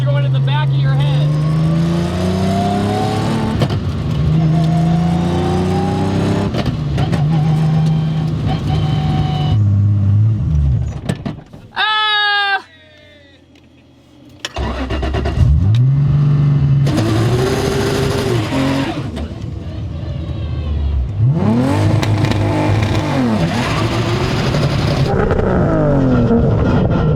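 A 1000 HP Fast and Furious Toyota Supra revs hard and accelerates through its gears, the engine note climbing and dropping at each shift, with a turbo whine and a brief near-silent gap between pulls, heard loud and close-up inside the car.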